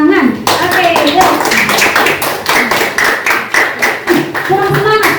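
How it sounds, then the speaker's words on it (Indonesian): A school class claps hands together in a lively, rhythmic pattern of quick bursts, fairly loud and close, while a teacher's voice leads over the clapping. "kita tepuk tangan aja dulu"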